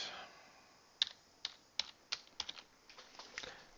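Password typed on a computer keyboard, about ten quiet, close keystrokes in an uneven rhythm over a faint room background.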